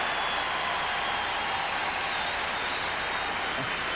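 A tennis crowd at the 1987 Dallas final between Miloslav Mecir and John McEnroe breaks into loud, sustained applause, a dense wash of clapping that fills the whole moment without any voices.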